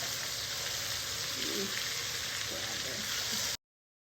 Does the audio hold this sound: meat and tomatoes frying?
yes